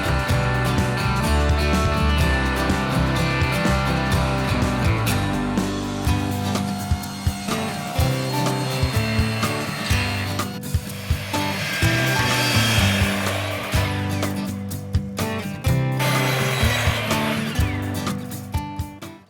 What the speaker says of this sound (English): It's an old joiner.